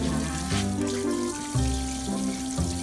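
Tap water runs steadily for a dog's bath, a close, fairly loud gush that shifts in pitch as the flow hits different surfaces, with no voices.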